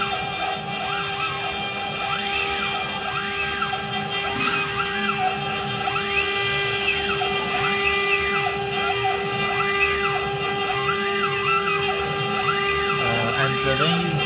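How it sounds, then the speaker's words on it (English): A CNC router spindle runs under a DSP A11 controller, a continuous high whine with steady tonal hum and rising-falling sweeps throughout, close and loud, with talk over it. "We can see the spindle starts to run"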